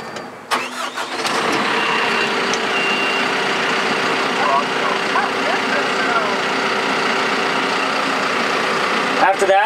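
A backhoe's engine cranks over and catches, then settles into a steady, loud mid-range idle that runs for several seconds, with a brief knock near the start and a short rise at the end.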